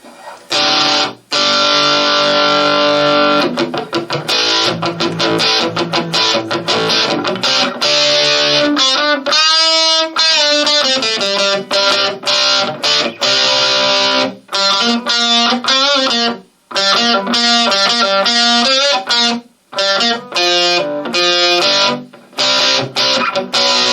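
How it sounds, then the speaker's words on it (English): Distorted electric guitar played through a KIMAFUN KM-G207 wireless system gives loud, sustained chords and riffs with a gritty, saturated tone, nearly continuous with a few short breaks. "So it sounds like some distortion."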